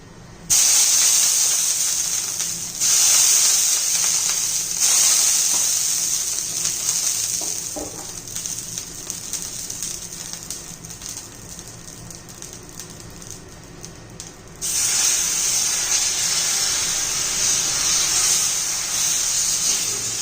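Water sprinkled onto a hot iron griddle while making bajra (pearl millet) dosa bursts into a loud, steady steam hiss that softens midway, then flares up strongly again near the end.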